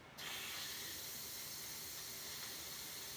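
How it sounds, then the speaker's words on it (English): Hot steam bursts from the vent of a PC Quick Cooker pressure cooker, starting abruptly and then hissing steadily and loudly on its own. "now it's time to release the pressure on this"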